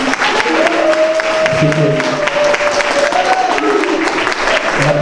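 A church congregation applauding mothers at a service, a loud sustained wash of clapping from a full room, with a person speaking over the applause partway through.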